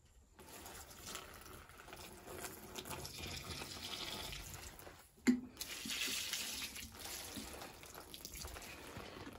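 Water pours and splashes while a cabbage bed in a home vegetable garden is watered by hand. A faint, steady trickle and gush runs throughout, with a brief knock midway and heavier flow after it.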